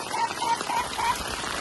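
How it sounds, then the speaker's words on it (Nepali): Rain pours steadily onto a cattle shed, an even dense hiss and patter with no gaps, close by and without voices. "बाँचेको गोठमा पनि यस्तो पानी परिरहेछ है"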